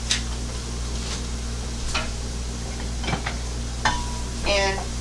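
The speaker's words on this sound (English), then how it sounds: "make sure you move these around when you're sauteing the onions" Onions sauté in a hot pan with a soft steady sizzle, broken by a few scattered ticks and scrapes as they are stirred around; close and moderate, with a low background hum.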